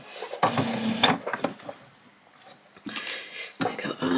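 A sewing machine stitches an apron waistband in several short, uneven bursts broken by brief pauses, with clicks and handling noise close by.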